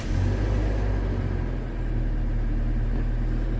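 A vehicle engine fitted with a coil booster, freshly started and idling, giving a steady low rumble with a slight dip in level midway, alone with no voices.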